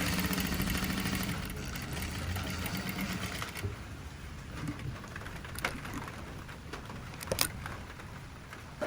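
A sewing machine stitches the folded hem of an umbrella-cut skirt, running in a steady, continuous close whir with a few faint clicks and no talking.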